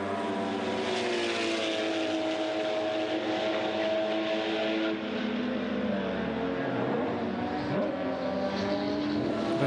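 Porsche race cars roar around the Hampton Downs circuit during a 12-hour endurance race, with a continuous, fairly distant engine drone that rises and falls in pitch as the cars pass.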